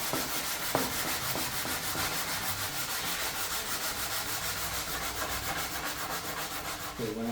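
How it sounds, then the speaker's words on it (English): Steady back-and-forth hand sanding of a wooden end panel, an even rasping scrub with soft rhythmic strokes and a few light knocks, heard alone without speech. "Bring that even sanding all the way down."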